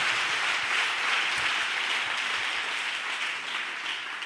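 A church congregation applauds and acclaims in a dense, continuous wash of clapping that holds steady throughout, filling the hall without a break.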